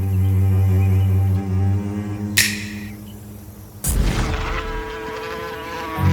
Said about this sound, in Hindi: वो वापस गया एक मक्खी बनकर।